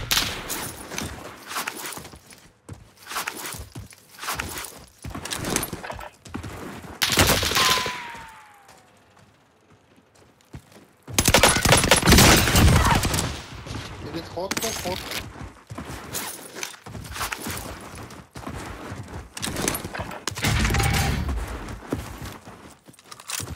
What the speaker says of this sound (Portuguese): Tem um cara atirando nele, velho.